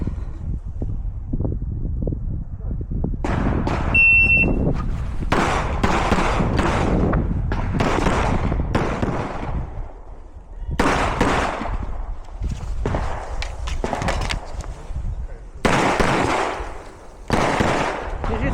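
Gunshots at a pistol shooting competition, a rapid series of loud sharp cracks and thumps fired in quick bursts with short pauses, echoing outdoors amid wind noise.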